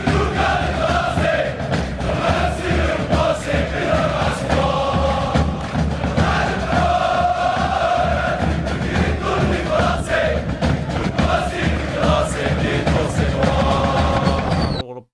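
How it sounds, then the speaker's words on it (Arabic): Football stadium crowd at Bologhine stadium singing a chant together, a loud, sustained mass of voices with a rhythmic melody and thumping beats carrying on steadily before cutting off abruptly. "صوت واحد من الجمهور صراحة كيجي احسن من الاغنية"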